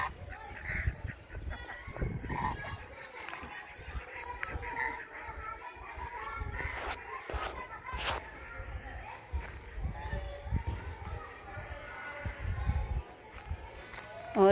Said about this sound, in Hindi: ये डक ही है ना